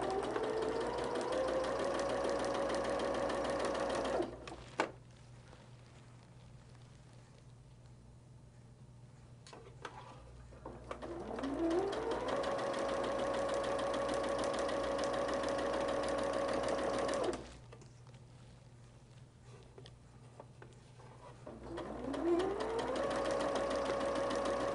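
A sewing machine stitches blue and white quilt block fabric in two long runs, its motor whirring up to a steady hum, falling quiet for several seconds between bursts, close and clear.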